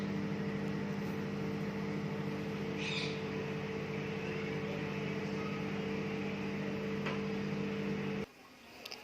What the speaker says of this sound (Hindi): ये माइक्रोवेव में हमने रख दिया है और फिर स्टार्ट कर देते हैं।